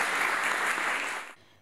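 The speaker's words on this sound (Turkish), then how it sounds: "Kendisini alkışlıyoruz." Dense audience applause for a humanitarian award recipient at a university ceremony, loud and even before abruptly stopping near the end.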